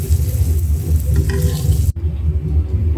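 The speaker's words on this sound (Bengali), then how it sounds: "আর এখানে পাঙ্গাস মাছের ডিম তেল বসেছিলাম, ওটাও হয়ে গেছে, নামিয়ে নিব।" Pangas fish roe fries in oil, giving a loud, steady close-up sizzle that breaks off abruptly and then resumes more quietly.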